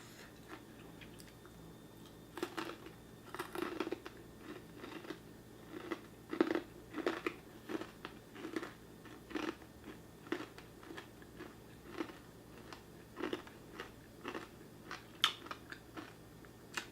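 Crunching bites of crispy honey-glazed fried chicken, a series of sharp, close crackles and chews spaced irregularly over quiet background, no talking.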